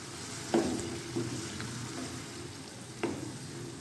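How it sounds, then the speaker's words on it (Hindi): Boiled chickpeas and green chillies frying in a pan, a soft steady sizzle with a few sharp clinks of a utensil stirring against the metal. "हम इसके ये बॉईल किए हुए चने इसमें डाल देंगे। अब हम इनको थोड़ी देर के लिए फ्राई करेंगे।"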